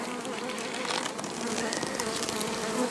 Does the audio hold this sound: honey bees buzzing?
yes